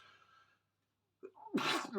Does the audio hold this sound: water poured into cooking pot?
no